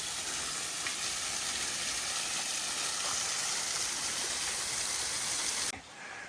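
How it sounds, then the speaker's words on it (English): A small waterfall beside a steep road in Japan, a continuous broadband rush of falling water heard up close and loud, dropping off abruptly near the end. "Very nice little waterfall"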